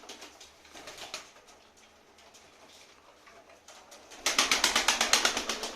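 Pigeons in a coop during a tumbling contest: faint soft cooing and rustling at first, then a loud close burst of rapid rhythmic wing flapping near the end.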